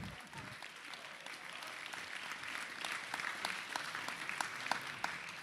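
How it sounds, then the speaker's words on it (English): A round of applause from the crowd at an esports grand finals event in San Diego, steady and sustained throughout, moderately distant with a few sharper claps standing out near the end. "Let's get one more round of applause for them, please"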